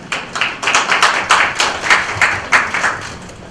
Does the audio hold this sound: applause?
yes